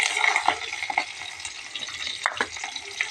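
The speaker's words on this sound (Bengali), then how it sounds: "এখন আমি পেঁয়াজ কুচি দিব, পেঁয়াজ কুচি দিয়ে দেব।" Chopped onion fries in oil in a pan for a prawn and sweet pumpkin dish, a steady sizzle broken by several scraping stirs and clinks of the spatula, close and fairly loud.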